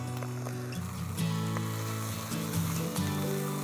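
Bacon, eggs and tomatoes fry in a pan over a campfire, giving a steady crackling sizzle with occasional sharper pops, close and continuous.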